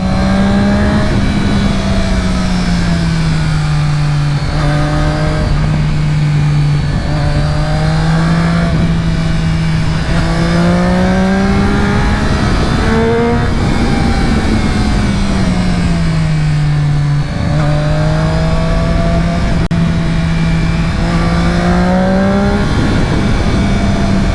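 A Triumph Daytona 675R sport motorcycle engine drones loudly throughout a ride, its pitch rising and falling smoothly as the throttle and gears change, steady, close and unbroken, with constant wind rush.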